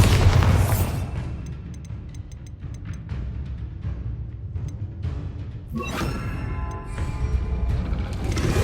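Confringo and Bombarda spells in Hogwarts Legacy go off as booming blasts and crackling bursts, with a heavy hit at the start and another surge around the middle, amid ongoing combat clatter.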